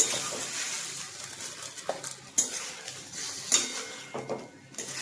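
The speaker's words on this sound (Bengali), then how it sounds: "দেখুন একটু নেড়ে চেড়ে মিশিয়ে নিয়ে" Spicy potatoes being stirred and mixed in a pan, with clinks and scrapes of a utensil against the metal sounding close over a soft background hiss, no talking.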